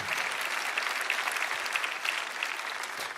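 Congregation applauding in a church service, a steady, even wash of clapping from a sizeable crowd at moderate volume, continuing throughout without talk.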